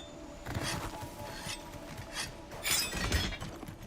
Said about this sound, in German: Und meine Waffe schleifen.